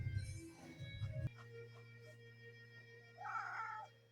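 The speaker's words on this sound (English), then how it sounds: "my cat Monkey wants out" A house cat wanting to be let outside gives two faint meows, one at the start and one near the end, under a steady low electrical hum in a quiet room.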